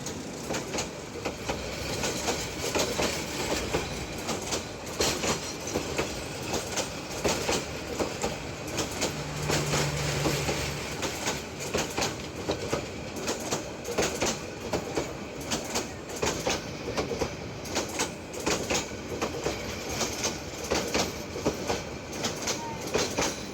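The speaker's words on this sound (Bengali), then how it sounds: "ট্রেন পাস হওয়ার পর ছেড়ে যায় রাত" The Tista Express intercity train runs at night on the Dewanganj to Dhaka route, a continuous loud rumble with a steady, repeating clickety-clack of wheels over rail joints throughout.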